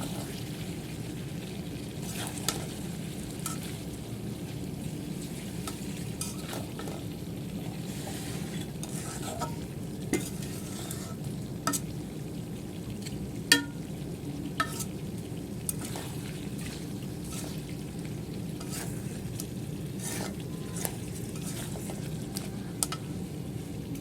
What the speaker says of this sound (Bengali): রসুন ছেঁচা দিয়ে দিব